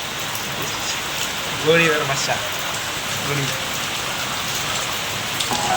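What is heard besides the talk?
heavy rain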